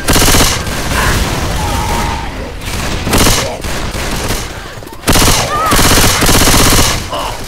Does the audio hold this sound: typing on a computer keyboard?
no